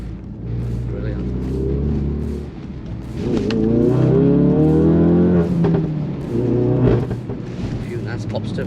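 A remapped Mk3 Ford Focus RS with a Revo Stage 1 tune accelerating hard, a loud rising engine note with a few exhaust pops, under someone talking.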